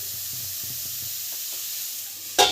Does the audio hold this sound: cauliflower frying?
yes